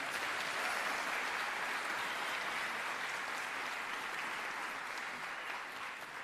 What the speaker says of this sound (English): Let's give a warm round of applause for the Imani Jaska Drum Group for their opening performance